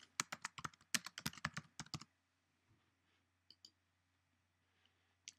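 Rapid keystrokes on a computer keyboard while a new folder name is typed, a quick burst of close, crisp clicks lasting about two seconds, then a few isolated taps and clicks in a quiet room.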